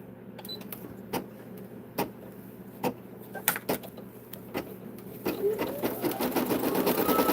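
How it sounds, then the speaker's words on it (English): An embroidery machine sews the placement stitch for an appliqué muzzle, with a steady close mechanical whir, sharp clicks at intervals, and a rising motor hum toward the end. "so now we're stitching the placement stitch for the muzzle"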